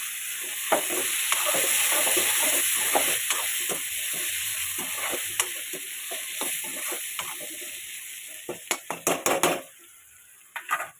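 Potatoes frying in a pan for a beans and potato curry, stirred with a utensil: a bright steady sizzle broken by repeated scraping and clinking strokes, louder metallic knocks near the end, no talking.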